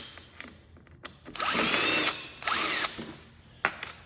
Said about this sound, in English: Go ahead and flip over to a Phillips head screwdriver. There's a screw right here.